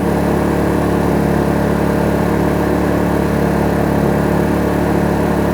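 A Kraft&Dele KD681 inverter generator drones continuously nearby, a steady mid-low hum with slightly raised revs and no speech.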